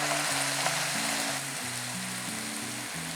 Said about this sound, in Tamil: இப்போ மீதி ஆயிலில் நம்ம அடுத்த இன்க்ரீடியன்ஸ் சாட்டே பண்ண போகிறோம். அதுக்கு தக்காளி சேர்க்குறேன்